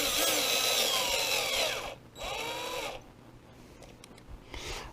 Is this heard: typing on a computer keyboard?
no